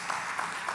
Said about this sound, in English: We need to make some noise and clap